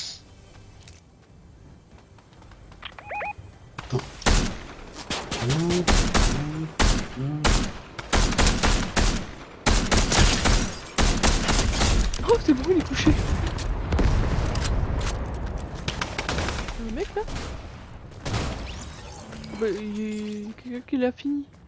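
Fortnite gunfire rattles in dense bursts and single loud shots, with rapid repeated cracks spread across the stretch, under frequent talk from players.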